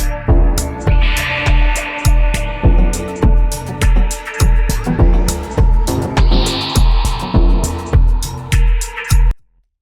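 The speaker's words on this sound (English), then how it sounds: "So it's a dubby, electronic dub kind of thing." Electronic dub song plays loud and close: a steady, heavy bass-driven beat with regular punchy hits and a dense mix, cutting off abruptly just before the end.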